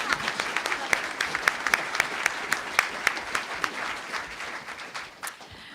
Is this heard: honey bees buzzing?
no